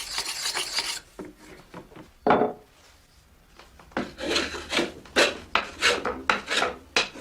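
A cooper shaves a wooden butter-churn stave with a hollow knife, giving a series of rough, rasping strokes, some long and some short and rhythmic, heard up close with no talking.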